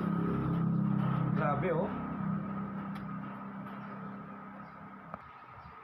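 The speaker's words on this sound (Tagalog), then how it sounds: "Ang ingay ng fan." A noisy fan runs with a steady mechanical hum and whir, louder at first and then settling slightly lower, while a person talks briefly over it.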